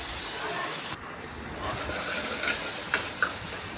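Masala for a Kerala-style mutton curry frying in a pan: a loud, bright sizzle that drops suddenly after a second, then a softer steady hiss with a few sharp clinks of stirring.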